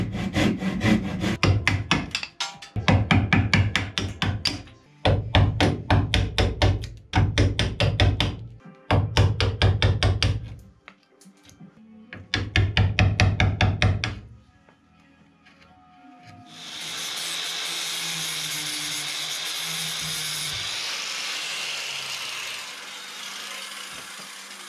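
Wood is carved away by hand so a pillar will fit. Repeated bursts of rough scraping and chopping strokes come with short pauses between them, followed by a steadier hissing, rasping stretch near the end.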